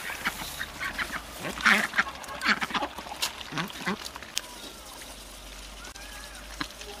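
Ducks and four geese on a rural farm in China, driven up from the water, give a scattered run of quacks and honks, busiest in the first half and thinning out afterward, fairly close against faint background noise.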